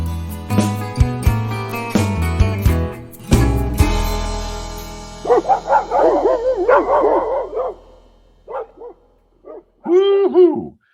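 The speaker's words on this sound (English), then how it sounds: "I can hear those old hound dogs barking, chasing down the hoodoo there" Hound dogs barking and baying after a short music passage, loud howling and yelping calls close by, with varied pitch and irregular bursts.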